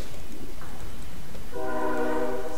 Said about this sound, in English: And train noise.